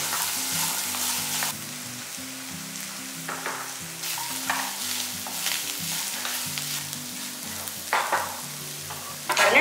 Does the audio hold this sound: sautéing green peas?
yes